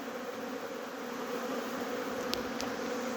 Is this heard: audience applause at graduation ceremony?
no